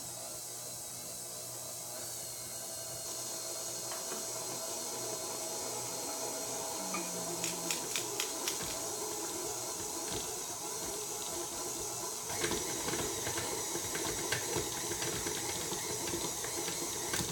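A stand mixer with a mixing paddle whirs through unleavened bread dough, a steady mechanical hum with faint clicks and knocks from the bowl, fairly quiet and without voices.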